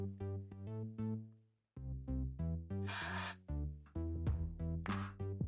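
Two short bursts of hissing from a spray bottle misting a wig hairline cut through a steady, loud musical backing, each lasting about half a second.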